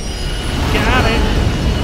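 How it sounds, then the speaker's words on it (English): A train rolls past in the video game Life is Strange, a loud, steady rumbling roar with a brief rising squeal of wheels near the middle, close and continuous throughout. "The train's coming!"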